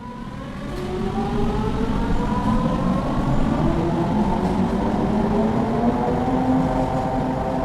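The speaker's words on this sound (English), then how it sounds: "Just one of the little electric handcars used in subway construction" A small electric handcar used in subway construction, staged as a radio drama effect, gives a loud, steady rolling whir whose pitch slowly climbs as it runs on, with no voices.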